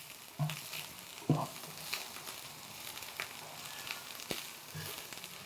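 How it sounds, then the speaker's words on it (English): Green spring onion sizzles in hot oil in a pan for beef Mongolian, a steady close frying hiss with a few stirring knocks and clinks scattered through it, no voices. "Now we are going to add the green part of our spring onion. Let that fry up a bit."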